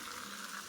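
Water poured into a pan of simmering chicken masala, a steady close rushing and splashing stream that holds even and unbroken throughout, with no voices over it.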